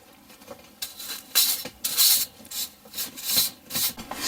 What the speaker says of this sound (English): So we're going to brush the heatsink.